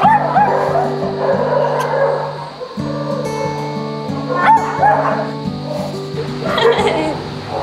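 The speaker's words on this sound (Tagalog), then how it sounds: "natin si Ate Gina, kapakita ko muna sa inyo yung mga dogs namin dito sa shelter." Several dogs at an animal shelter bark, yip and whimper close by in repeated overlapping bursts, with people talking over them.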